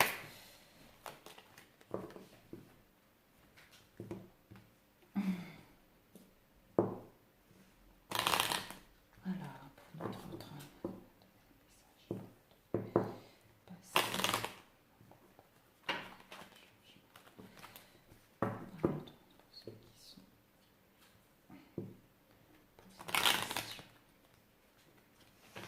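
Tarot-style cards being shuffled and handled for a card reading, with repeated riffling bursts and soft slaps spread irregularly through the stretch, quiet and close.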